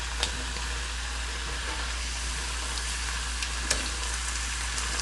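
Fries cook in hot oil for Bahamian cracked conch, a steady soft sizzle and bubbling hiss running throughout with a few faint clicks, close and fairly quiet.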